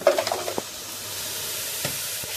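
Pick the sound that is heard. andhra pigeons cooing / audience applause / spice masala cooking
spice masala cooking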